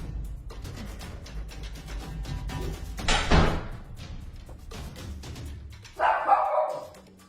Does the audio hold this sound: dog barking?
yes